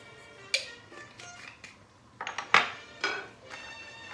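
A spoon stirring white bean and hambone soup with garlic in a metal pot, giving several sharp clinks and scrapes against the pot, close and fairly loud, spread irregularly with no talking.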